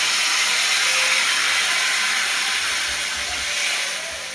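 Water poured into a pan of hot spice mixture while cooking paneer curry sets off a loud, sustained steaming sizzle and hiss close by, easing slightly toward the end.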